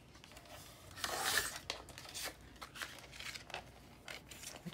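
Scissors snip through card stock for a handmade Easter card, a brisk close cut near the start followed by several lighter, quieter trims and paper rustles.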